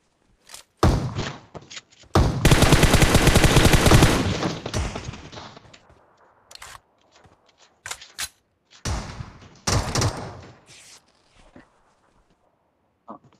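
Gunfire in a battle royale video game, with a loud sustained burst of automatic fire around two to four seconds, then scattered single shots and short volleys, loud and close.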